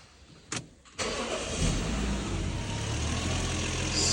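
2002 Lexus car engine starting after compressor repair: a short crank blip, then the engine catches and settles into a steady, even idle, close and fairly quiet, with no voices.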